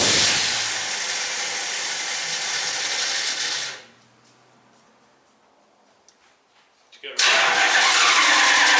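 Carbureted car engine fitted with a Holley Sniper EFI system cranking and running loudly up close, cutting to near silence midway before a roar of engine noise returns; a voice speaks briefly.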